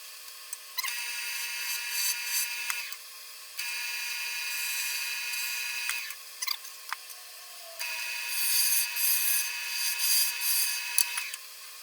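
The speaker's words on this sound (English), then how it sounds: "Let's go down a little bit more with the regular gouge" A regular gouge on a wood lathe cuts into a small wooden pot, giving steady scraping passes with a whining tone, broken by short pauses and scattered knocks, no voices.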